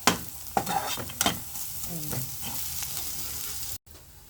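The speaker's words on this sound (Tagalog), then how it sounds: "Ayan, gisa natin." Bangus sisig, chopped milkfish, sizzles while being sautéed in a pan, with scraping stirs and clinks over a steady fry before the sound cuts off briefly near the end.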